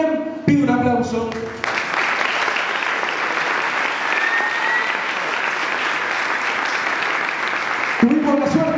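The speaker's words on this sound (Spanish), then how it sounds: "también pido un aplauso" Sustained audience applause at a May Day political rally in Córdoba, a dense steady roar of many hands clapping for several seconds, with a voice speaking briefly before it starts and again as it fades.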